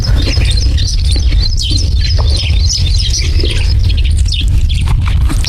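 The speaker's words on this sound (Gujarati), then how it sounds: "એકદમ નેચરલી જો ચકલીનો અવાજ આવે" Sparrows chirp in a farm field, a busy scatter of short high tweets over a loud, steady low rumble of wind or background noise, with no talking.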